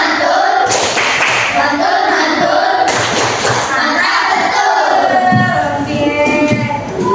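Primary schoolchildren in a classroom performing the 'tepuk mantul' clapping routine, loud close group claps and chanting voices in rhythmic bursts.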